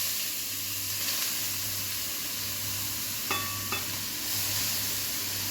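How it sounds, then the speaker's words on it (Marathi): Grated carrots sauté in ghee in a kadhai with a soft, steady hiss, broken by a couple of brief metallic spoon clinks against the pan. "हे गाजर परतवून घ्यायचं आहे तुपामध्ये"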